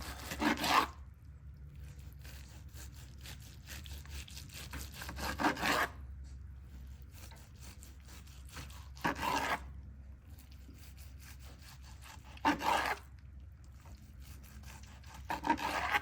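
A knife slices through smoked brisket in repeated slow strokes, each a rasping rub of the blade, spaced several seconds apart, close and fairly quiet with no talk.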